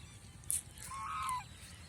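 A large-breed male goose gives a single nasal honk at close range, preceded by a short sharp squeak, with a quiet background.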